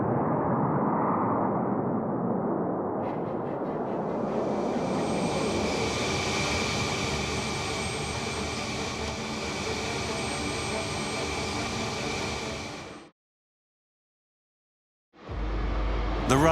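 A Rafale fighter jet on the runway at an air show outside Moscow, its engine a loud sustained roar that builds into a bright whine, cuts off abruptly, then bursts back in at the end.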